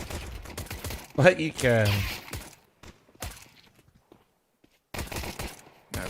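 Gunfire from the video game Counter-Strike during a professional match, a headshot kill: a short burst of sharp shots followed by a few scattered bangs, with a commentator talking over it.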